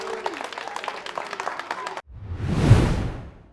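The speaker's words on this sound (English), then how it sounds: "give him a big round of applause," An audience bursts into applause that swells to a loud peak and then fades, coming right after a stretch of talk.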